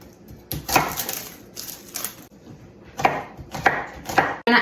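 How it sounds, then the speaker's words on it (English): Knife chopping a single clove of garlic on a cutting board for a kidney-friendly seitan lemon bowl, a few quick bursts of close, crisp chops separated by short pauses. "we're gonna cut up 1 clove of garlic"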